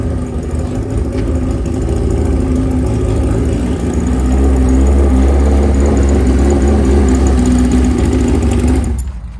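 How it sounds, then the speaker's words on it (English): A drag bike engine idles loud and close at an outdoor car and bike show, a steady deep rumble that swells slightly before cutting off at the end. "look at the drag bike, guys."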